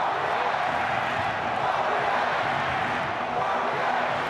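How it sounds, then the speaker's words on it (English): Rugby league stadium crowd roaring and cheering for the New Zealand Warriors, a steady dense wall of noise from thousands of fans, loud and continuous with no break. "Here comes the crowd bringing the Warriors home."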